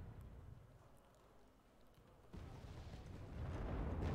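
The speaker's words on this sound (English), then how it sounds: "Is that an Atacams?" Missile strike in the Wargame Red Dragon video game: a low, rumbling blast rises abruptly and swells into a loud, sustained roar that grows heavier toward the end.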